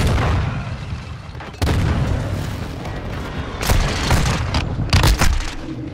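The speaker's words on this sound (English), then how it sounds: "Enemy precision airstrike." Enemy precision airstrike in Call of Duty Modern Warfare II: loud, close booming explosions hit in a cluster of sharp impacts, layered over continuous battlefield rumble and scattered gunfire.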